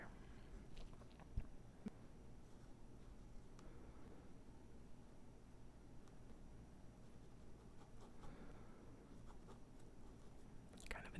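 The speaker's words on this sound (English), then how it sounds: "Maybe you like the way the pen sounds on the paper." A pen scratches and glides across paper in a quiet, close-up drawing session, with soft continuous strokes and occasional light taps over a faint low background hum.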